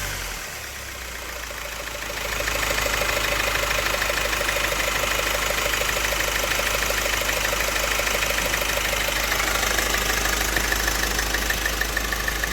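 An Opel Insignia 1.6 CDTI diesel engine with a noisy timing chain idles steadily with a rough, knocking rattle, growing louder after a couple of seconds and holding a constant rumble.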